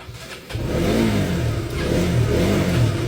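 A KTM Duke 200 motorcycle engine, struggling with a cold start, is revved with the throttle in a workshop, settling into a loud, wavering roar with a brief dip midway.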